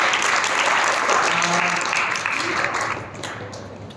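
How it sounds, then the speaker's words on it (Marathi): A group of children applaud in a classroom-style gathering, a dense burst of clapping that holds steady for a few seconds then thins and fades near the end, close and fairly loud. "खूप छान टाळ्या वाजवा याच्यासाठी"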